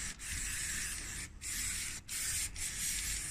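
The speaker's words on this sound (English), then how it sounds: "Got this bristle brush. Just get in there." A stiff bristle brush scrubs the wet deck of a Mountfield HP414 lawn mower, a close, steady scratchy rasp broken by a few brief pauses between strokes.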